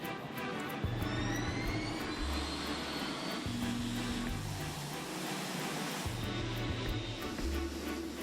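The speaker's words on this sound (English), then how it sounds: "The 747-8 the newest and largest version of the company's iconic jumbo jet, is taking off for the first time." A Boeing 747-8 jumbo jet takes off on its first flight, a broad, distant engine roar that swells gradually beneath a layered tonal backdrop.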